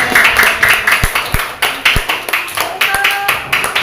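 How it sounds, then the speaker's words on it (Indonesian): A small group, likely a classroom, claps for a student presenter; individual hand claps stand out in a quick, uneven patter, close and fairly loud, with a few sharper slaps among them. "tepuk tangan untuk kata, silakan tangannya"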